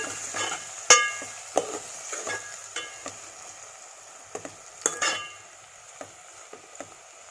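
Egg masala curry sizzles and fries in a pan while a spoon stirs it, giving scattered clinks and scrapes against the metal over a soft, steady background hiss, close up and fairly quiet.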